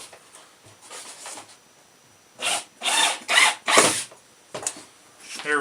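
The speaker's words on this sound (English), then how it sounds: "Drilling upside down when you're not looking at it is kind of a pain in the ass." Power drill run upside down by hand, heard as a few short, sharp whirring bursts separated by pauses, with a cluster of quick spurts in the middle and a final burst at the end.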